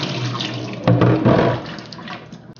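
Water running and draining in a kitchen sink while Korean-style steak tartare is being prepared, a close, steady rushing splash that swells midway and then tapers off, with no talking.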